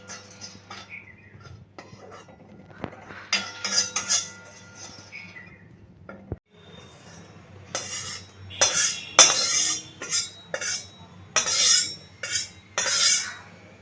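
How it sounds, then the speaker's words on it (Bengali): A metal spatula scrapes and clanks against a hot kadai as mutton is stirred with the gas off, with irregular bursts of scraping and clatter, quieter at first and then louder and more frequent, no talk. "কড়াইটা বেশি গরম হয়ে গেছিল, তাই আমি গ্যাসের ফ্লেমটা বন্ধ করে দিয়ে এমনি নাড়াচাড়া করছি।"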